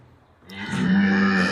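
A cow or calf on a dairy farm gives one sustained, full-throated moo that swells in from a quiet background and holds loud and close to the end.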